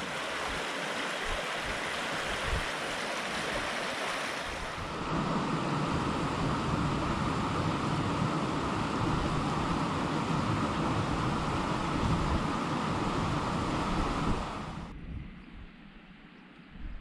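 Continuous rushing of a river flowing through a rocky canyon, loud and close. The roar swells partway through, then drops back toward the end.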